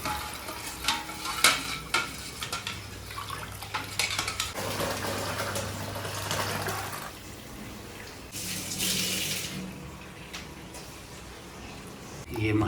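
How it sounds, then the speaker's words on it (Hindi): Traditional tadka of spices sizzling in a pan for a tinda, aloo and tomato curry, a continuous frying crackle with utensil clinks and stirring, under nearby talk. "परंपरागत तरीका है ये तड़का लगाने का,"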